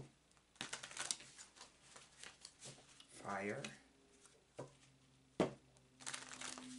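A deck of oracle cards being shuffled by hand, making soft papery riffles and taps in short bursts, with a voice speaking quietly between the shuffles.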